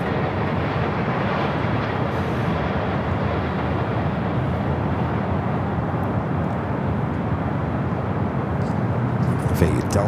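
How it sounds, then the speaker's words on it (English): Loud, steady broadband roar of a Japan Airlines Boeing 787-9 Dreamliner arriving at LAX from Osaka, heard close and constant throughout with no talk over it. "Japan Airlines Flight 60, coming in from Osaka, Japan, on the 787-9"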